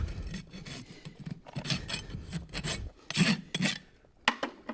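A farrier's rasp files the burrs off horseshoe nail clinches in a run of close, uneven scraping strokes, some harder and louder than others, with a brief pause near the end.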